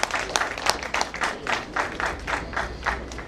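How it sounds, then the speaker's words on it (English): Audience applause at the launch of a hardware showroom, a crowd clapping in irregular bursts that swell and fade, fairly close and unbroken by speech. "Okay, so a great applause."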